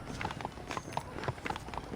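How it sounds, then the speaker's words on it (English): Horse hooves clip-clopping on the ground in Red Dead Redemption, a quick, steady run of close hoofbeats. "I asked Nastas to bring the horses around front."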